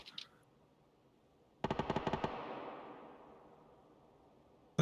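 Automatic gunfire in PlayerUnknown's Battlegrounds: a quick burst of about eight sharp shots, evenly spaced, followed by a long fading echo, with faint background ambience and no talk.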